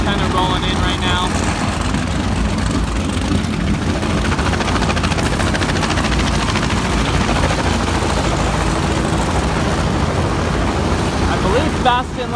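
Steady, loud rotor and engine roar of a helicopter overhead at a poker run on the Sacramento Delta, continuous throughout with a broad rumbling wash and no pauses.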